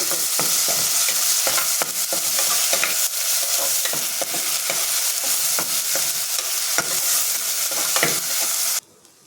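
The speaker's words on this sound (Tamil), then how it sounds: "இப்போ இஞ்சி பூண்டு பேஸ்ட்டு ஒரு ஸ்பூன் சேர்த்துக்கிறேன் இதுவும் பச்சை ஸ்மெல் போகிற வர வதக்கி" Ginger garlic paste sizzles and fries in a hot pan while a spoon scrapes and stirs in irregular taps, loud and close, cutting off abruptly at the end.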